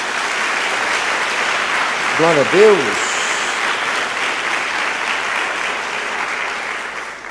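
A church congregation claps together in a sustained, loud wash of applause, with a voice briefly calling out praise over it partway through.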